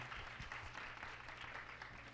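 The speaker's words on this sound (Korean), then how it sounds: "자, 우리 다시 한번 박수 한번 쳐주세요." Audience clapping at a campus Christian chapel service, a steady dense patter of many hands filling the room at moderate level with no voices over it.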